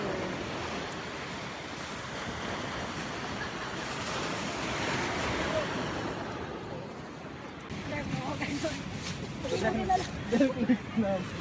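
Waves wash onto a beach at Little Anawangin on a rough-sea day, a continuous loud surf rush with wind buffeting the microphone and people talking over it toward the end.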